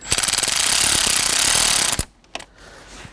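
A ratchet tightens the positive battery cable terminal on a 2019 Subaru Forester, a loud continuous rapid clicking for about two seconds close up, then a few quieter clicks and handling noises.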